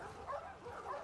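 In The Last of Us Part II, a dog gives soft whimpering yips, a couple of short muffled bow-wow sounds that are faint and close, with no clear speech.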